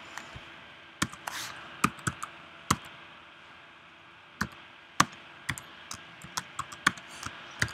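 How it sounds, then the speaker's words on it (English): Password being typed on a computer keyboard during a command-line login, sparse sharp key clicks in irregular bursts, close and fairly quiet with no talking over them. "You notice I'm typing my password,"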